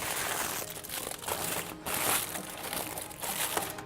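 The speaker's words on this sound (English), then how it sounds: "So we've removed the foil." Aluminium foil being peeled off a tray of seitan pastrami partway through roasting, a sustained dense crinkling and crackling close by, with brief louder rustles and no talk.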